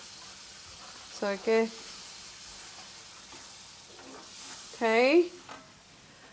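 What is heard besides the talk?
pork stew ingredients being stirred and sizzling in a pan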